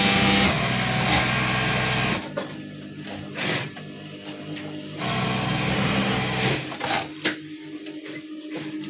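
Industrial sewing machines stitch garments in a busy readymade clothing factory, a loud continuous mechanical drone that stops and restarts in long runs among clatter and room noise.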